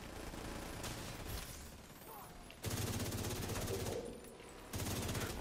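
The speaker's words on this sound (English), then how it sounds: "Why is he shooting across the map?" Rapid automatic gunfire in a PlayStation multiplayer shooter, dense bursts of repeated shots that cut in abruptly, pause, then return loud and close.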